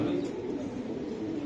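A racing pigeon coos softly and close in a short low throaty burst, with faint background noise.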